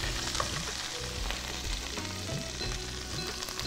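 Cumin seeds and green chili sizzle in hot oil for a tadka, a steady close crackle of frying with light stirring and no talk.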